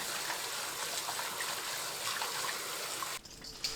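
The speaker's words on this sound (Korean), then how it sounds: "찬물에 두세 번 헹굽니다." Cold water runs and splashes while blanched shepherd's purse is rinsed, a quiet steady trickling wash that stops abruptly near the end, leaving near silence.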